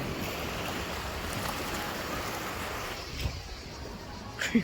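A boat motors across the open sea near a small island off Albania, with a constant engine drone mixed with wind and rushing water, steady throughout with a few knocks near the end.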